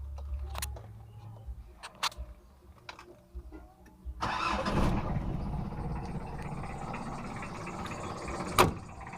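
Mitsubishi Kuda diesel engine cranks after a few light clicks and knocks, then catches and settles into a steady rough idle, nearby and moderately loud, with a sharp squeak near the end.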